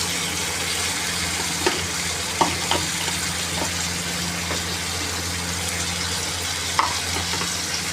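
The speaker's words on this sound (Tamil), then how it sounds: "அப்படியே வதங்கட்டும் இஞ்சி பூண்டு பேஸ்ட்" Steady sizzling of ginger garlic paste sautéing in a pan with curry leaves, with a few faint clinks of stirring, no voices.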